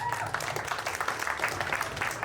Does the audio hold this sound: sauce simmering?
no